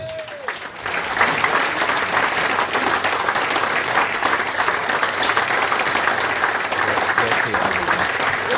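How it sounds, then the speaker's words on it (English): Audience at an awards evening bursts into loud, sustained applause with cheering after a man is introduced, a dense steady crowd roar filling the whole stretch following a brief announcing voice at the start. "Ladies and gentlemen, make some noise for Mr. Paul Hawes!"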